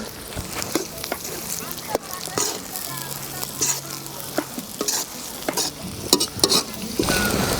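Mutton liver and dobba fry in a pan, Telangana style, with a steady sizzle broken by scraping stirs and sharp spatula knocks against the metal, while a voice talks over the cooking.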